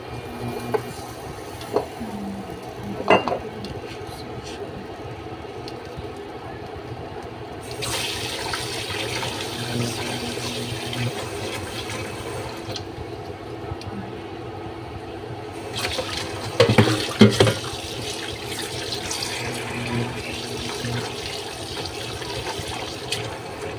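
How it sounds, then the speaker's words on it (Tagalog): Water poured into a pot of fish soup as it cooks, with splashy running-liquid bursts that come and go and two louder pours, over a low kitchen background without voices. "Tapos lagyan natin ng tubig."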